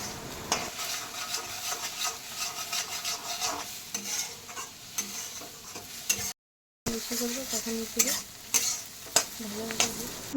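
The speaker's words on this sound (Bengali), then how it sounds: "আমি আবারও নাড়াচাড়া করতেই থাকবো যতক্ষণ না এটা একদম পুরো ছেড়ে দিবে কড়া থেকে" Egg frying in a pan for an egg tadka dal is stirred continuously, a close steady scraping and sizzling with repeated utensil strokes against the pan, briefly cut to silence midway before the stirring resumes, no speech.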